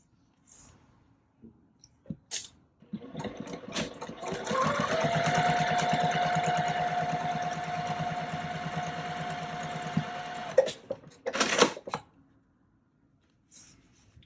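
A sewing machine stitches fabric pieces for a binder storage pouch in a steady, rapid mechanical whir lasting several seconds, framed by handling clicks and taps before and after.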